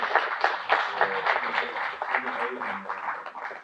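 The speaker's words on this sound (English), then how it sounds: "Round of applause, man." Audience applause and cheering at a talk about a man's worth, a steady dense wash of clapping with a few louder bursts, lasting several seconds, and a voice can be heard faintly beneath it.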